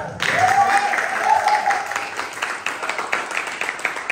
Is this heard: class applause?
yes